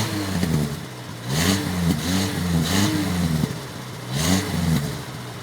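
A Renault 4's engine is revved repeatedly, its pitch rising and falling in several swells over a steady running drone, loud and close with no voices.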